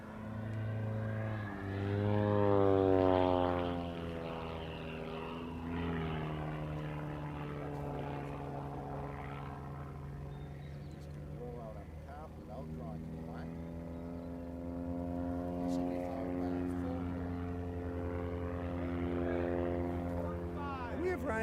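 A propeller aerobatic airplane performs maneuvers at a power/glider aerobatics competition, its engine droning steadily with rising and falling pitch sweeps as it climbs and turns, loud near the start and fading slightly after.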